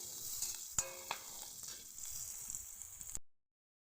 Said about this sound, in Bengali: দিয়ে আমি একটু ভালো করে পেঁয়াজগুলো ভেজে নেব লাল লাল করে।